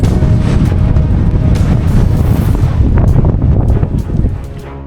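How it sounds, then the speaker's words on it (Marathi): Strong wind buffeting the microphone at a monsoon-season hill fort, a loud continuous roar with gusty rumble that eases slightly near the end. "वाऱ्याचा जो आवाज येतोय ना"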